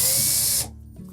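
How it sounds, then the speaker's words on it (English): A power screwdriver backs Phillips screws out of the front panel of a Samsung dryer, a steady close whirring burst that cuts off abruptly after about half a second, followed by a faint mechanical clatter. "it's better to take these 2 screws out first. Again, number 2 Phillips head screws."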